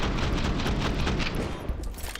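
Dense, continuous gunfire in a Counter-Strike pro match, with overlapping rifle shots and bursts that form a loud, unbroken barrage.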